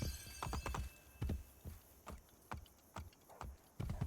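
Rhythmic hoofbeats of a horse galloping in the video game Assassin's Creed Brotherhood, with clip-clop strikes and a whinny, close and clear without any talking.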